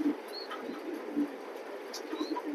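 A pigeon cooing softly in a loft, low repeated coos over a steady background hum, with faint chirps from other birds.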